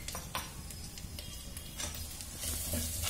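Carrot sautéing in a pan for egg fried rice, a steady close sizzle with soft scraping stirs and light clinks of a utensil against the pan.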